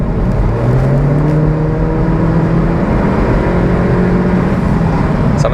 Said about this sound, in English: You can actually hear the turbo just a little bit right there, which sounds pretty nice.